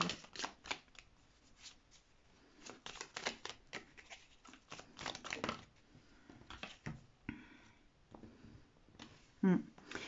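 A deck of cards is shuffled and laid out for a reading, quiet close riffling and slapping as cards are placed one after another, with soft rustles and taps in between.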